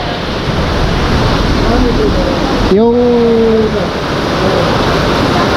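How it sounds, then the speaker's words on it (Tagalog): Broadband roaring noise of heavy rain and strong wind at a beach eco resort in Pagbilao, Quezon, Philippines fills the whole clip, steady and loud, with a brief voice speaking partway through. "Lakas ang ulan. At hindi lang ulan, ang lakas din ng hangin."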